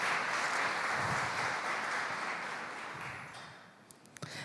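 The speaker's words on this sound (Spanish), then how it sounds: "Démosle un aplauso a Jesucristo." A church congregation claps in a soft, steady patter of applause that gradually thins out over four seconds, ending in a few scattered claps and small knocks.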